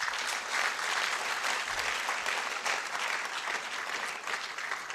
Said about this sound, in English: Code UCC deserves a round of applause.